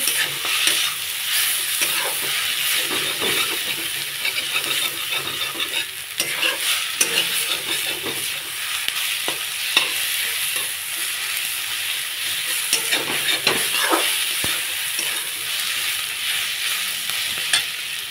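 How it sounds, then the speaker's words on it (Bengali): Spices with turmeric being stir-fried in a pan for an arum and prawn dish: loud, continuous sizzle and frying hiss with scraping stirs throughout, close up and uninterrupted by talk. "সব মশলা ভালো করে কষিয়ে নেব"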